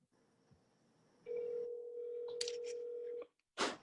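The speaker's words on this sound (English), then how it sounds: "let me call Jess and put her on speaker" Outgoing phone call on speakerphone, a steady ringback tone holding for about two seconds, followed by short chirpy electronic blips and a burst of noise at the end.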